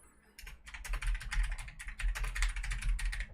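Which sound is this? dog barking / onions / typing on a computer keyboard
typing on a computer keyboard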